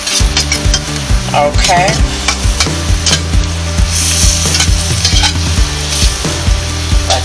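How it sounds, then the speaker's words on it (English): Asparagus sautéing in a pan over very high heat, a loud, close sizzle with repeated utensil scrapes and clatter against the pan, and a brief spoken word partway through. "I'm probably going to let it saute for like another 5 minutes."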